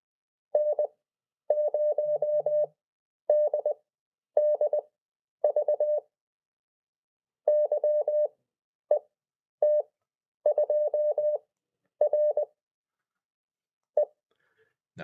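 Fast Morse code tones sent as groups of letters, clean steady beeps in rapid dot-and-dash bursts separated by short silences, heard alone with no talking.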